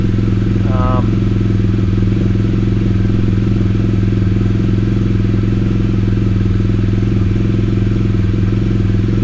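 A 2016 BMW R1200GSA motorcycle engine idles at about 1280 rpm indoors, a loud, close, steady low throbbing with even mechanical pulses throughout; a brief faint chirp sounds near the start, and a voice may be present beneath the engine.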